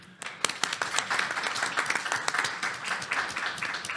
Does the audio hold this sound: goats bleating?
no